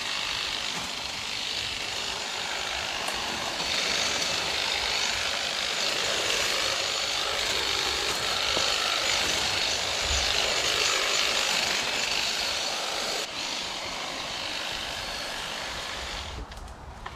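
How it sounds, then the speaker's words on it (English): Kobalt 24-volt brushless 24-inch hedge trimmer cutting through brush outdoors, a steady buzzing whine with rattly chattering of the blades, sustained and fairly close with no talk. "this 24-inch, 24-volt Kobalt brushless hedge trimmer is a game changer"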